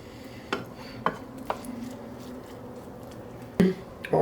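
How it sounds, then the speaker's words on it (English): A rice paddle mixes sushi rice in a pan, giving scattered scrapes and a few sharp utensil knocks against the pan, fairly close and moderately quiet, with no talking. "Then we just take our rice paddle and mix it."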